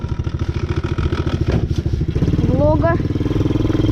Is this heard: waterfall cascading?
no